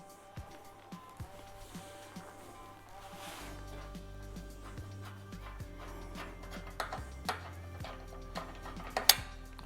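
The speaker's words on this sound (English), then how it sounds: "we're going to go ahead and take our lid off. Thumb screws on each side of the paste well" Small metallic clicks, taps and scrapes of thumb screws and a lid being loosened and lifted from a tapo-fix CB56 heavy-duty commercial pasting machine, close and intermittent, with a low machine hum running underneath.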